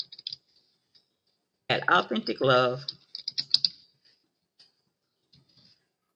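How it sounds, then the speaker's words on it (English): Light clicking of a computer keyboard sits in scattered brief bursts around a short stretch of talk, faint and close. "Let me type that in."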